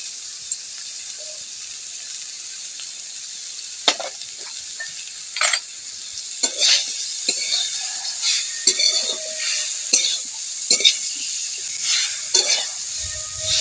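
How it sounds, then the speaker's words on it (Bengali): Chalta (elephant apple) pieces stirred with salt in a pan for a pickle, a faint low sizzle broken by scattered spatula scrapes and knocks that grow busier toward the end. "চালতাটা একটু নেড়ে নেব"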